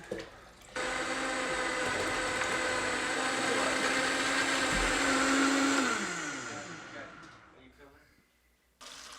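A Vitamix blender runs with vinegar and warm water inside, giving a loud, steady motor whir and liquid churning that winds down and fades after several seconds, then a short clunk.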